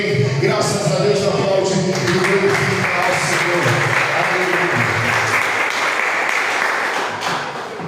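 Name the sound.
church congregation applauding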